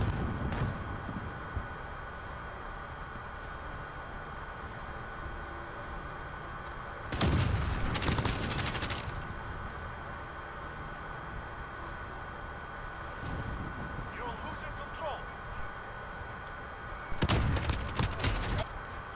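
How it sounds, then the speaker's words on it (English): Call of Duty grenade launcher fire and explosions: two sharp, heavy bursts land several seconds apart, each a loud blast with a short rumbling tail, over a quieter ambient hum. "Let's launch grenades!"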